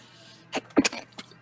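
A single sneeze bursts out in a quick couple of sharp, close bursts with a short trailing blip after, over a quiet background hum.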